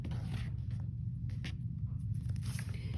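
Quilt fabric being cut along its side with a rotary cutter and ruler, a close, steady rasping scrape that runs continuously with a few brief brighter swishes.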